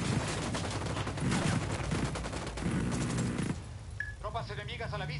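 Sustained automatic gunfire in a military video game assault on an airbase rattles loudly for several seconds, then cuts out as radio-like voices speak.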